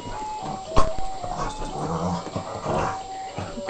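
A dog growls and grumbles up close while playing with clothes in a room, giving a rough, uneven series of low rumbles with a few sharper yips.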